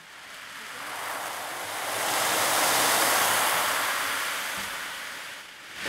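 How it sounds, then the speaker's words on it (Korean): A healing meditation instrument, such as an ocean drum, produces a soft rushing wash like surf or rain, swelling gradually to a peak and fading again over several seconds, heard on its own. "네, 파도가 치는 소리처럼 들리기도 하는데요."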